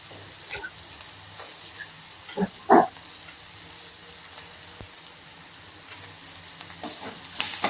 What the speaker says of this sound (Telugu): ఇప్పుడు కరివేపాకు వేసేస్తాను